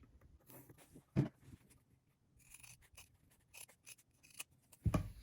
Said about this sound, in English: I'm just gonna mark it using a straight edge and then cut mine with scissors